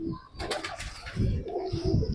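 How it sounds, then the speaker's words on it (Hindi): Pigeons cooing at close range in a loft, soft repeated low calls running on with a brief flutter of wings, no voices over them. "ये कबूतर है जी।"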